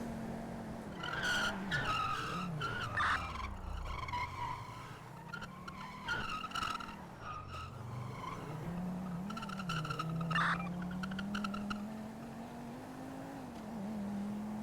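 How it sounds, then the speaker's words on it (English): Video game car screeches with long tire skids and squeals over a humming engine that rises and falls, loud and sustained throughout. "Slam on your brakes."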